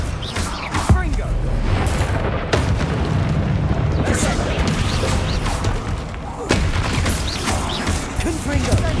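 Confringo explosive spell in the Hogwarts Legacy video game, repeated booming blasts and crashes over a dense, continuous combat din, loud and close throughout.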